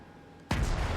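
Ship guns firing in the naval battle game World of Warships, a single sudden loud boom after brief quiet, with a heavy rumbling tail that carries on.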